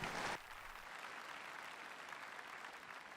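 A church congregation applauds for Jesus, a brief loud burst of clapping at the start that quickly drops to a steady, softer wash of crowd noise.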